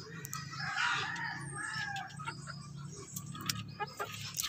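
A fighting rooster crows at a distance, a drawn-out call near the start, followed by scattered clucks and chirps over a quiet outdoor background.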